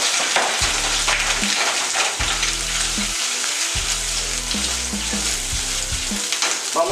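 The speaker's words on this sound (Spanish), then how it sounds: "lo primero que vamos a hacer es saltear los camarones" Shrimp sautéing in hot oil crackle and sizzle loudly and continuously, with stirring scrapes and low rhythmic thumps underneath.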